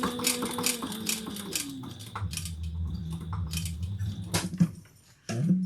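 Sewing machine with a narrow foot stitching a bag, running in short bursts as it reverses for a backstitch, close up, with clicks and handling noises between runs and a quiet pause near the end.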